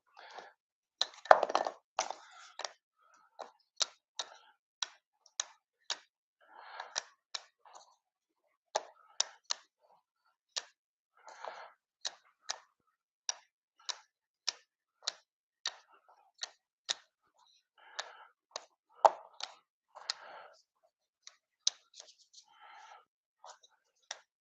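A huge stack of board game tiles is shuffled by hand, giving sharp clicks and clacks in irregular bursts, with some soft breathy sounds between them.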